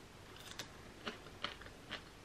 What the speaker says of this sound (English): So I've just got some cucumber to dip in my